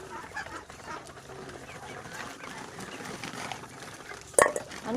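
Chickens and other fowl kept on a rooftop cluck faintly in the background, with a louder squawk near the end amid general ambient noise.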